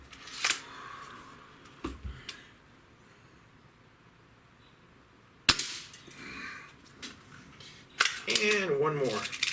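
Umarex Fuel air rifle firing, with sharp snapping reports at about 0.5, 2, 5.5 and 8 seconds; the reports are close and loud, and a voice speaks near the end.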